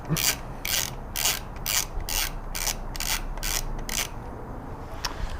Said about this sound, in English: we're going to take our ratchet, tighten these bad boys, not all the way, but a good amount